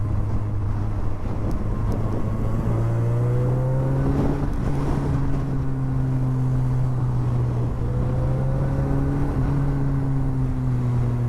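A KTM 390 motorcycle engine on a canyon road, throttle opening with a steady droning note that rises in pitch and holds, continuous and close with wind noise throughout.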